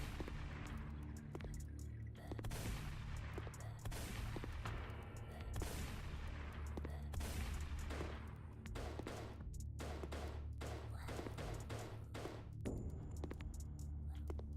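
Pistol shots in the Reincarnation 3D video game, sharp reports fired in irregular bursts over a constant low hum, fairly faint and with no talk.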